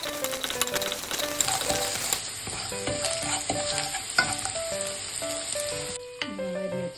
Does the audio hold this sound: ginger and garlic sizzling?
yes